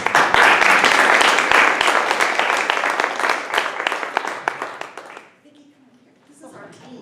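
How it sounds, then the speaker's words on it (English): Audience applause at a community event, loud and dense at first, then thinning into scattered claps before fading out, followed by a speaker's voice. "So I just want to give that a big applause for American Heart Association and for Liz Helms for helping us with that."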